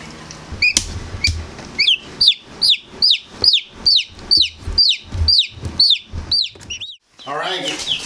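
Newly hatched chicks peep in a rapid, steady series of high chirps, close and fairly loud, as they are set into a pen after incubation, with a short rustle near the end.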